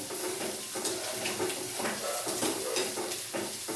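Onions, green chilies and curry leaves frying in a pan, with a steady close sizzle and occasional scrape and clink of a spoon stirring against the metal throughout.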